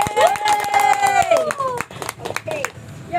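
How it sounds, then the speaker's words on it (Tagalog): An audience claps during a live evening health demonstration on sanitary napkin absorbency, with scattered sharp claps running under a loud voice talking throughout. "Wala bang palakpak dyan?"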